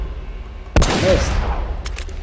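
Gunfire from the PlayStation 4 version of Uncharted: Drake's Fortune, a sharp loud shot bursting in after a quiet lull and then a rattling flurry of further shots and echoes trailing off, with no voices.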